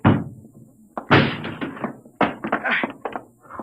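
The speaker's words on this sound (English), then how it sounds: "Break down the door." In an old-time radio drama sound effect, a door is broken down: a series of heavy thuds and splintering knocks in two bursts, close and loud, with a short pause between them.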